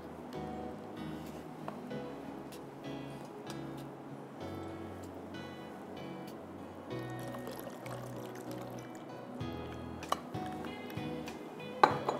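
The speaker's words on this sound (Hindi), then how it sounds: "मैं पानी और डालूंगी" Water is poured into a pot of simmering kadhi, a yogurt curry, giving a soft trickling stream with light clinks of utensil against pan, fairly quiet and close.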